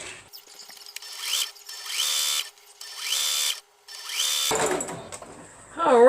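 Sewing machine stitching down a seam on a homemade pocketbook, running in three or four close, whirring bursts separated by short pauses, followed by a brief voice speaking at the end.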